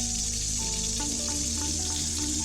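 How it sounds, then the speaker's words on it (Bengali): Water running from a washbasin in a toilet next door, a steady hissing flow with faint dripping taps and clinks over it, alone with no talking. "শুনলাম ঠিক পাশের টয়লেটের বেসিন থেকে জল পড়ার শব্দ।"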